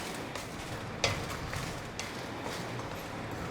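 Ten or twelve dried red chillies fry in a freshly washed pan, making a soft, low sizzle with a few light scrapes and clinks of stirring, all fairly faint and without talk.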